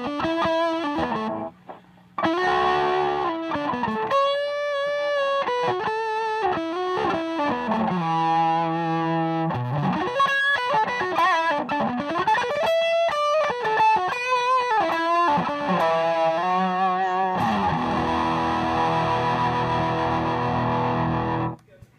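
An electric guitar plays through a cheap, freshly retubed tube amplifier with heavy distortion, a continuous run of overdriven notes and chords, loud and close, with no talking.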